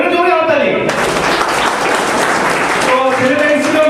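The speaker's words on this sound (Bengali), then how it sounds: "এটা জোরে হাততালি" Loud audience clapping breaks out at a 13th anniversary celebration of a training centre, a dense burst lasting about two seconds, with a speaking voice just before and just after it.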